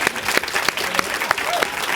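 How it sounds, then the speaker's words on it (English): Applause from an audience at a panel with an actress, brisk crowd clapping with sharp individual claps punctuating it, and a voice briefly audible within. "let's get a round of applause."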